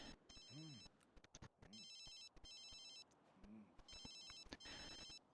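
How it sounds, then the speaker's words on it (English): A phone ringtone in the life-simulation game inZOI rings in several bursts of repeated electronic trills, clear and fairly close, with short pauses between them and no talking over it. "Somebody's phone's ringing."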